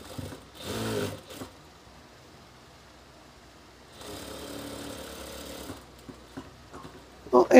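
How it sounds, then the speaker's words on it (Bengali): A sewing machine stitches around the edge of a hijab being made from an old scarf, running in two short bursts separated by a quiet pause. "এই দেখেন আমি পুরোটা সেলাই দিয়ে দিচ্ছি ঘুরিয়ে ঘুরিয়ে।"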